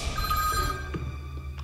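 A telephone rings with a bright, trilling electronic bell tone, loud and close, sounding for under a second before fading into a quieter tail.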